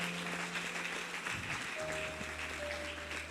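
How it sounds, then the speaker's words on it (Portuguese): A church congregation applauds during a sermon, a steady wash of clapping heard at moderate distance under faint background tones. "Aplaude ele, aplaude."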